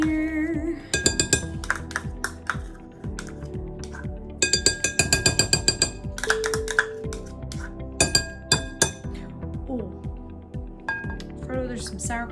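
A whisk mixes sour cream into cheese scone dough in a bowl, making bright, rapid clinks against the bowl in uneven bursts, with a dense flurry near the middle and scattered taps after it.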